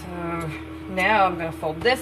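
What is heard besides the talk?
None of the usual background noises is heard.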